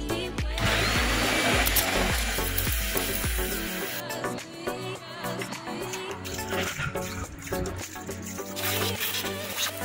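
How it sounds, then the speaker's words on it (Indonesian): A vacuum cleaner sucking dirt from around the injector area of a Perodua Aruz engine, a steady droning motor hum that shifts pitch partway as the nozzle moves, close and loud. "kita vacuum buang kotoran pada bahagian ini dulu"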